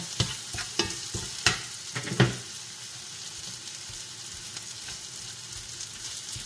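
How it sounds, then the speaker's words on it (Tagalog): Eggplant frying in oil in a pan, a soft steady sizzle with several sharp utensil knocks and scrapes in the first couple of seconds, then a quieter continuous frying hiss. "Napiprito naman siya. Yan. Kasi kailangan maprito to."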